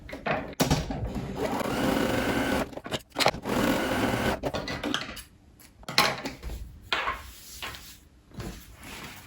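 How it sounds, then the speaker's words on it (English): A domestic sewing machine zigzag stitching the edges of stretchy leggings fabric, its motor running in steady bursts of rapid needle chatter with brief pauses and a few handling clatters, close and fairly loud. "I'm just gonna stitch the edges here with a zigzag stitch so they don't fray"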